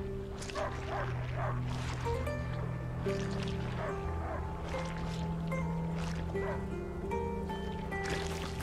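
Dog barking in the video game A Plague Tale: Innocence, repeated yips and barks at moderate distance over a steady game ambience and music bed.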